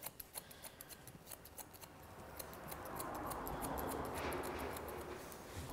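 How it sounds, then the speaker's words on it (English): Quick, rhythmic snips of thinning scissors close up trimming a Labradoodle's hair, a run of small crisp cuts followed by a softer rustling sweep, with no talking. "We're just going to take our thinning scissors straight up the middle."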